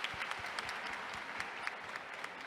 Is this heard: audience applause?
yes